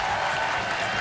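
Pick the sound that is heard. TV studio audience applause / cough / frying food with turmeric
TV studio audience applause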